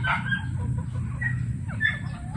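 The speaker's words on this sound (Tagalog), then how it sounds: "madali lang hulihin yan ang mga manok yung mga manok na rito sa may ano oh" Backyard chickens roosting on a wooden perch in the evening give a few soft clucks and short calls, close by and fairly quiet over a low, steady background hum.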